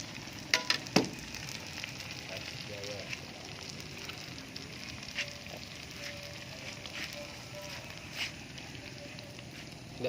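Pentol meatballs fry in hot oil at a street vendor's stall, a steady soft sizzle lasting throughout with a few sharp clicks near the start, heard at moderate distance amid outdoor background noise.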